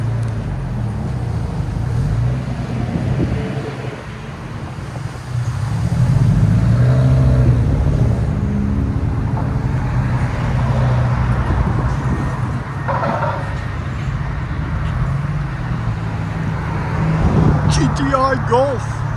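A 1997 VW Golf GTI 16V with a muffler delete, its exhaust idling with a low rumble that rises into a louder rev partway through, close by, with voices talking over it.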